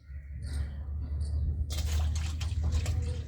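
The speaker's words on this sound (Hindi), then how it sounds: "मैं पानी भर रही हूँ" Water is poured into a container in a village yard in rain: a low steady hum underlies faint splashes, then a louder gushing fill starts partway through and continues to the end.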